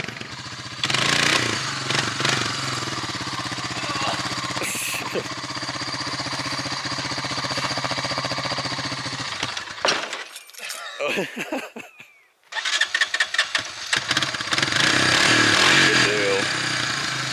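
A Honda Fourtrax ATV engine runs loud and steady with broadband mechanical noise, dropping away briefly near the end before revving back up, with occasional clinks over it.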